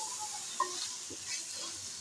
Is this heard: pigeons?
no